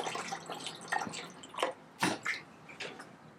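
Water splashes and drips into the tank of an ultrasonic record cleaning machine as it is topped up, giving a few irregular, soft pours and drips in a quiet room.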